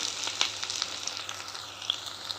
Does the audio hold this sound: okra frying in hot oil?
yes